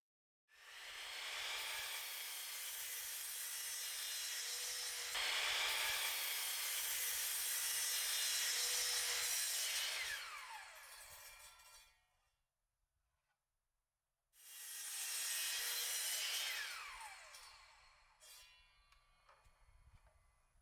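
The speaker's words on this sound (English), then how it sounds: "Then I used my miter saw to cut the side pieces to size." A miter saw cuts wooden side pieces for a toolbox in a small workshop, a loud whining cut that spins down, a short quiet gap, then a second cut that fades out.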